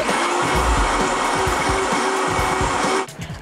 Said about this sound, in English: Blender on.